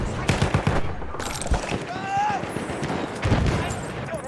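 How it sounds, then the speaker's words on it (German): Enemy machine gun fire in Battlefield 1 rattles in bursts of rapid shots amid battlefield noise, with a whistling tone partway through and voices talking over the fighting. "Feindliches Maschinengewehr!"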